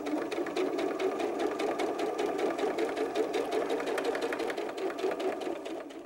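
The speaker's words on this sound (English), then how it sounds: "just top stitch around the fins on top" A sewing machine top-stitches around fabric fins on a mermaid doll softie, its rapid, even needle chatter running continuously at moderate loudness with no voices.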